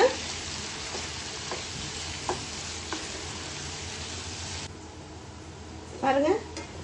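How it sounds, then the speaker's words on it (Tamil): Prawns fry in a pan for homemade prawn pickle with a steady, low sizzle throughout, plus occasional soft taps as they are turned. A brief clatter of stirring comes near the end. "இடையில இடையில திருப்பி போட்டுக்கோங்க அந்த இறா வந்து வேகிற வரைக்கும்"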